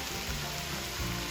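Okra stew frying and reducing in a pot, Guyanese style, gives a steady soft sizzle and crackle throughout, fairly quiet and continuous with no talking.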